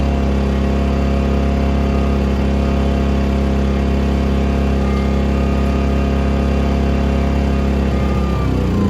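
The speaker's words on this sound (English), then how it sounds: "Boy, that's a quiet generator there." A Powerhorse 2300i inverter generator engine, converted to run on propane and natural gas, runs steadily and quietly with an even mechanical hum and low drone, holding a constant level before shifting slightly near the end.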